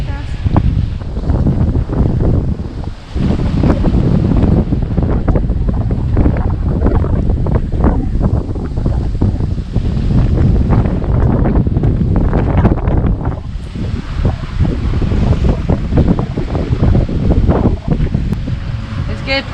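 Strong wind buffets the microphone over a steady wash of ocean waves aboard a sailboat at night, loud and continuous throughout, with a voice speaking intermittently in Spanish.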